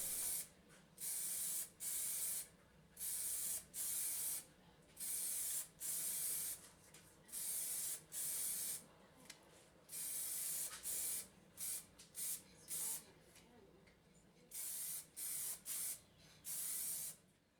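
Spray paint applied as a full covering coat in a series of short hissing bursts, roughly a dozen regular blasts with brief pauses between, close and fairly quiet, no talking.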